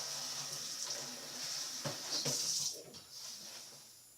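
Running water pours steadily into a container with a bright hissing splash, rising briefly in intensity before easing; close and continuous, no voices.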